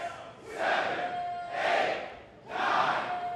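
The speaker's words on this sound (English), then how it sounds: "Could be looking to rain down these fists as the crowd chants in unison." Wrestling crowd at a pro wrestling event chanting in unison, three loud rhythmic swells of massed voices rising and falling about once per second, filling the arena.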